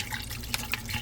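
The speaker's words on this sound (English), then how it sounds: "I'm going to put some water" Water from a bottle pours into a cooking pot for chicken adobo, a close, steady splashing gurgle with a couple of small droplet accents and no talk.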